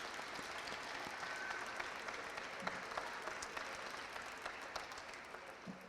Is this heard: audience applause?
yes